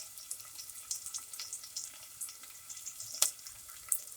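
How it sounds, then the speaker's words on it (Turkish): Soft, crackling sizzle of onions frying in oil until pink, with light pops and one sharper crackle, quiet and steady with no voices. "Soğanımızı arkadaşlar pembeleşinceye kadar kızartacağız"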